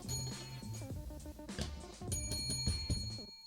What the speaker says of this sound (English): I gotta do my own bell.